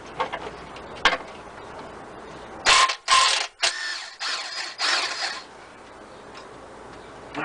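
A ratchet working a 12mm nut loose on a Toyota 3.4L 5VZ-FE engine gives a few sharp ticks, then a run of louder clicking bursts in the middle, against steady background noise.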